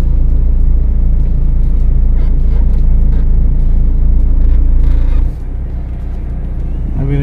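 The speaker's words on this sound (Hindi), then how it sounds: "तभी गाड़ी जगह से हिल जाती है।" Car engine rumbling steadily as the car moves off in first gear, a low continuous drone that drops slightly in level partway through, with no speech.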